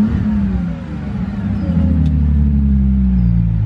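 A Bentley engine revs up with a deep, steady rumble that builds and holds loud and close, with no talk over it.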